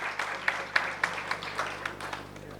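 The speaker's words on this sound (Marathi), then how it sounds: "जोरदार टाळ्या वाजवून आपण त्यांचं स्वागत करूया." An audience at a Marathi literary conference applauds to welcome the conference president, with a run of sharp, evenly spaced claps over a softer background of clapping.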